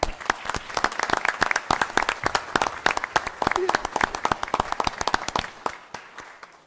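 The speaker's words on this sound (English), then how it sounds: "One more round of applause." A crowd at a Covington city council meeting applauds steadily, dense clapping from many hands that thins out and fades toward the end.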